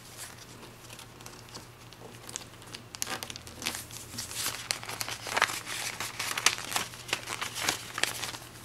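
Sheet of paper being folded and smoothed into a needle-style paper plane, giving a steady close run of soft crinkles and crisp rustles that grow busier and louder toward the end.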